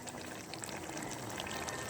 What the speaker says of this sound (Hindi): तो अब हम पानी डाल देते हैं।